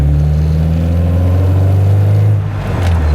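A 1991 Nissan 240SX drift car engine runs loud and close, a deep steady drone with strong low harmonics, dipping briefly near the end before picking back up.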